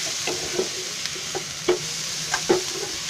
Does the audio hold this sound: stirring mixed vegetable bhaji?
yes